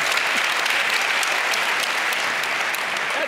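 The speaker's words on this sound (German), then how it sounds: "gebt den Österreichern einen schönen Applaus." Audience at a European media award ceremony clapping in a loud, even burst of applause from a large crowd, steady throughout with no talk.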